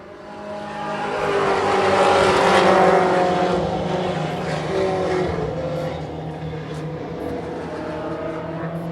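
Race cars roar around Wiscasset Speedway in a continuous loud pack, engine noise swelling and easing as they pass at the track.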